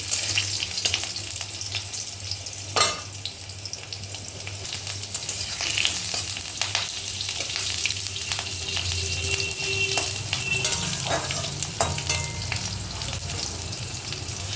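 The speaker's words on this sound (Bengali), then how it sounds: "আলুগুলো আমি লাল করে ভেজে নেবো" Cut potatoes frying in a pan until browned, for a fish curry: a steady, moderate sizzle throughout, broken by occasional sharp scrapes and knocks of stirring. No one speaks.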